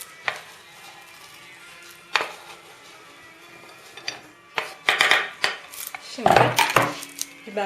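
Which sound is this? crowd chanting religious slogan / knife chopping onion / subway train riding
knife chopping onion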